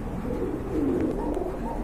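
A pair of orange chila pigeons coo softly and close by, one low, rolling call swelling and fading over about two seconds, heard without talk.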